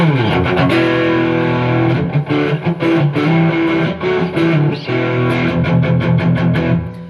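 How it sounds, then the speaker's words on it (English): A heavily distorted hollow-body electric guitar plays sustained, crunchy chords through an amp's distortion channel, with brief breaks between strums, loud and close. "Let's turn on the distorted channel here and see if it can handle that."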